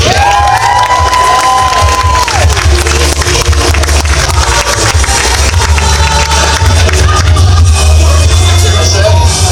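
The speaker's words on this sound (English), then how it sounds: "Ladies and gentlemen, a round of applause for Mark!" A comic-con crowd at a cosplay championship cheers and applauds loudly, a dense wall of clapping, shouts and whoops that holds strong throughout, with a low rumble underneath.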